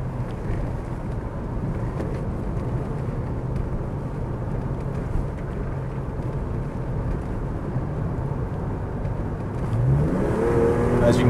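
A BMW 635CSi with an automatic gearbox in sport mode accelerates hard under full throttle, giving a fairly quiet, steady engine and road roar that swells and rises toward the end, heard from inside the car with no talk.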